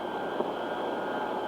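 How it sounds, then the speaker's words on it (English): Steady roar of a Boeing 707 jet airliner on approach to landing, a broad sustained engine noise with a faint whine, loud and continuous throughout. "the new Boeing lined up for landing on the main runway"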